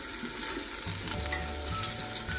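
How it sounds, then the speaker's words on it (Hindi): Chopped onions browning in a pan of hot oil, with a steady dense sizzle and crackle that stays close and constant throughout, with no voices. "अब हम थोड़ी देर के लिए प्याजों को ब्राउन करेंगे"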